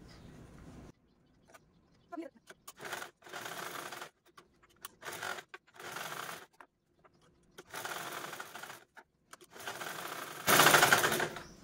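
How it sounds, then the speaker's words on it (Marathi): Sewing machine stitching a pocket onto a single layer of fabric, running in repeated short bursts separated by quiet pauses, with a long loud final run near the end. "अगोदर हे जे पॉकेट आहे ना ते फक्त एकाच वरच्या पॉकेटला, म्हणजे एका कापडाला स्टिच करून घेते"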